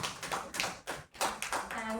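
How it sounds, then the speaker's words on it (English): Audience applause at a women's leadership summit session, with a run of uneven clapping that briefly dips midway and then picks up again, moderately close and fairly soft. "Big round of applause for all the speakers of this session."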